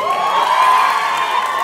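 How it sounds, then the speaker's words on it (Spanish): A live stand-up comedy audience erupting in cheers, whoops and shouts, a loud sustained roar of voices with no clear clapping rhythm. "¿Vieron el aplauso de ella?"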